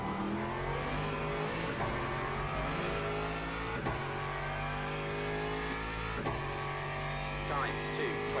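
Hypercar engine in the racing game Le Mans Ultimate at the Spa circuit, a continuous rising and falling engine drone with gear-shift breaks, heard alongside speech.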